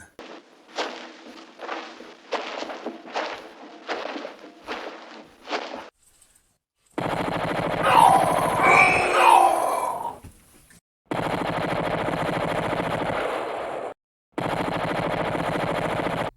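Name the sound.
machine gun fire in Santa's Dilemma video game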